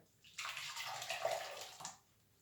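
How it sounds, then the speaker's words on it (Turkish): Blended tangerine mixture poured through a strainer, a soft continuous splashing trickle lasting about a second and a half, close by and quiet, then fading out. "Şimdi bu e, bu karışımı biraz süzeceğim."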